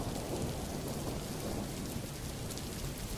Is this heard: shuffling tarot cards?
no